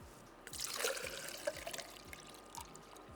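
Water pours into a container for a hot-versus-cold listening test, a soft trickling splash of about two seconds, faint and close, with no voices over it.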